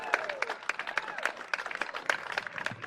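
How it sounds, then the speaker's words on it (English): Scattered clapping and applause from a crowd at a live outdoor rally, fairly faint and uneven, with individual claps standing out in an irregular patter. "Keep clapping, keep clapping"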